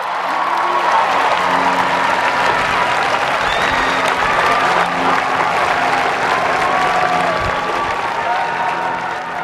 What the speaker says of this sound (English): Graduates, please join me in applauding your families for everything that they have done for you